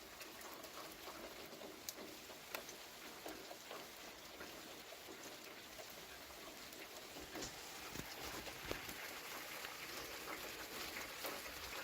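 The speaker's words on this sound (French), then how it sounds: "Ça y est, il pleut un peu plus fort" Rain falls during an evening thunderstorm in May, a soft, even patter with occasional sharper drops, fairly faint and steady throughout.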